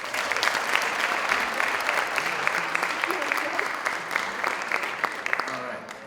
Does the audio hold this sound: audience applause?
yes